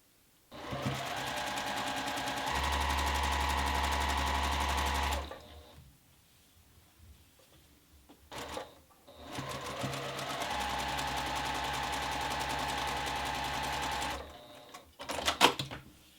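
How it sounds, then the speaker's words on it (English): Sewing machine stitching pieced quilt top fabric, running in two long steady bursts of several seconds each with a short quiet gap between, close and clear. "then we'll sew down that one"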